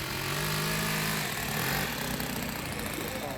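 Nitromethane-fuelled RC model aircraft engine running at a loud, rough, buzzing high pitch, close and continuous throughout.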